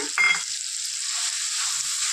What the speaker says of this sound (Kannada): ಒಂದು ಬಟ್ಲ ರವೆ ತಗೊಂಡಿದ್ದೆ, ಇದ್ರೊಳಗೆ ಹಾಕ್ಬಿಡ್ತೇನೆ ನಾನು ರವಾನ